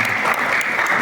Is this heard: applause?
yes